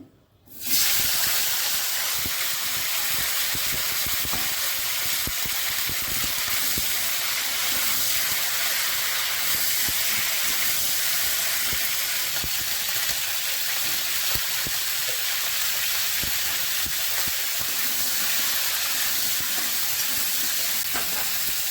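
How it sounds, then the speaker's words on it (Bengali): Cauliflower pieces frying in hot oil make a loud, unbroken sizzle with a steady, steamy hiss throughout, heard close up with no talking. "এবার আমি ফুলকপিগুলো ভেজে নিচ্ছি।"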